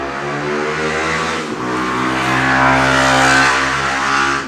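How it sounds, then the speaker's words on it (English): A car passes close by in street traffic, its engine droning loudly with a shifting pitch as it approaches and moves away, alone without talk. "that is the first traffic noise I've seen"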